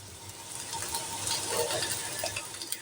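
Chopped tomato going into a pan of frying coconut curry, a steady sizzle and bubbling hiss with faint stirring scrapes, close and moderately quiet, with no voices.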